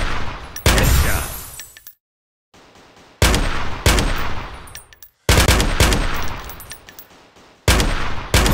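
Gunfire in the mobile first-person shooter Gun Games, with several loud separate shots and short bursts, each ending in a decaying echo, broken by brief silences.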